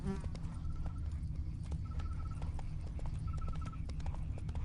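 Hooves of Geralt's horse Roach clip-clop in a fast steady rhythm in The Witcher game, with a faint neigh and jingling tack over a low rumbling background.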